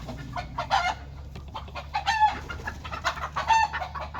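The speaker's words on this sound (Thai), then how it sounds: "ไก่" Chickens cluck and a rooster crows at a rural home yard, several close, loud bursts of fowl calls spread across a few seconds with little else around them.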